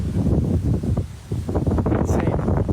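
Strong hurricane wind in Florida buffets the microphone in heavy, low rumbling gusts that roar almost without a break, dipping briefly before surging again, loud and close with no clear speech.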